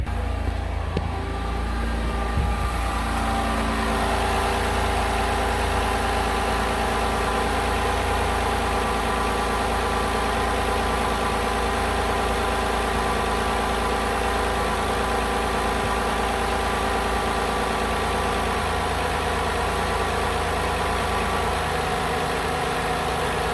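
2010 Ford Escape engine idling with an evap purge sensor unplugged, a steady continuous mid-low hum with no talking, close and even for over twenty seconds.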